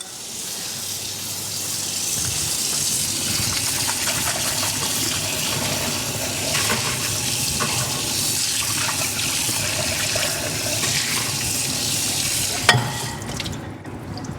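Butter or food foaming and frying in a hot pan while cooking game day food, a steady loud broadband sizzle that runs unbroken through the whole stretch, with a sharp clink near the end.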